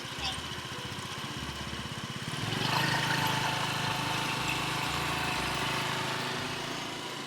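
A moped engine runs steadily throughout in Korea, a low droning hum that swells slightly louder partway through, with faint voices in the background.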